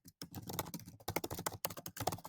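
Rapid bursts of typing on a computer keyboard, close and clear, with short pauses between runs of keystrokes and no talk.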